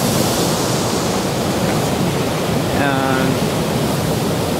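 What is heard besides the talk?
waves splashing in a tsunami wave tank simulation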